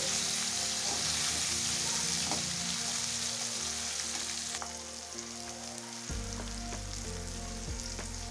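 Chopped tomatoes fry in a pan over ginger and garlic, giving a steady, moderate sizzle with soft bubbling and occasional stirring, while a low hum runs underneath.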